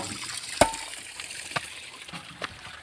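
Outdoor stream water runs steadily with a soft, bright hiss and trickle, broken by a few faint knocks or splashes; no one speaks over it.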